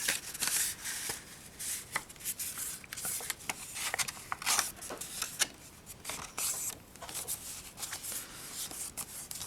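Paper rustles and crinkles with sharp creasing scrapes and taps, close by, as stiff card is handled and folded.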